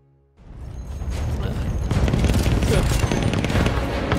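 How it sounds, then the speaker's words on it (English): A mounted gun firing continuously at aircraft in the Battlefield 1 campaign, heard as a dense, loud, sustained roar of rapid fire with booming noise and a voice talking over it. "So once you get on the gun, just start firing immediately."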